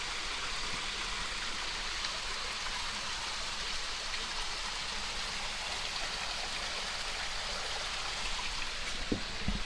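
A waterfall pouring down through a rocky Oklahoma hillside near carved stones, giving a steady, dense broadband rush that stays even and close throughout with no pauses.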